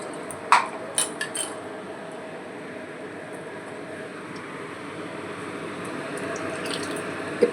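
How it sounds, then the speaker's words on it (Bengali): Water pours into a pan of simmering curry made with unfried bata fish, a steady broadband rush with a few sharp metallic clinks at the start. "একটু জল দিয়ে দিচ্ছি"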